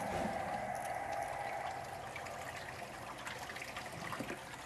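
Car wash chemical concentrate filling a bucket, a faint steady trickle and gush of liquid running continuously at low level with no voices.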